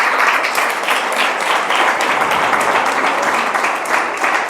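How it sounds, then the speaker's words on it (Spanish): A church congregation at a Spanish-language sermon gives a steady, dense round of applause that stays loud and even throughout. "Denle un aplauso al Señor"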